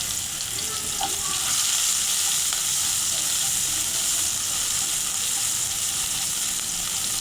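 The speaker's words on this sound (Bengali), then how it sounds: "যে তেলে মাছ ভেজেছি ওই একই তেলে আমি জিরা ফোড়ন দিয়ে দিলাম, পরিমাণ মতো পেঁয়াজ কুচি" Cumin seeds and chopped onion frying in oil left from frying fish, a steady close sizzle with faint stirring throughout, no voices.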